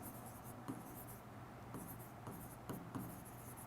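Pen or pencil writing on paper during an accounting lesson, a soft steady scratching with a few light taps, close and fairly quiet, with no talking.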